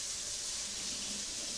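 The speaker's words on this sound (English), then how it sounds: "I'll let the water run a little bit." Warm water runs from a kitchen tap in a steady, soft hiss and splash that continues unbroken and fairly quiet for the whole moment, with no talking.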